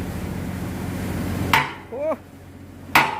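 Metal-on-metal hammer strikes while a bushing is driven into the bucket of a Komatsu PC excavator, two sharp ringing blows about 1.4 seconds apart over an idling engine hum, with a brief voice between them.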